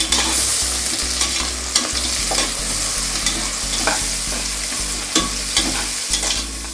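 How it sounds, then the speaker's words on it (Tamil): Onions sautéing in a pan for a mushroom thalapakatti biryani, a steady broadband sizzle with repeated spoon scrapes and stirring knocks, close and fairly loud with no talking. "ஆனியன் போட்டுக்கலாம். ஆனியன் நல்லா வதங்கட்டும்."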